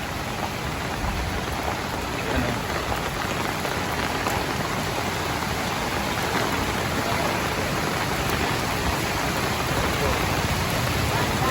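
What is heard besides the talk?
typhoon rain and flowing water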